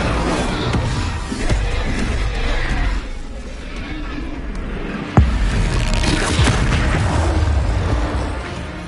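Fire spell blasts cast in Hogwarts Legacy, booming bursts and whooshes amid a dense wash of combat effects, with a sharp loud hit near the middle and continued rumbling impacts, no talk.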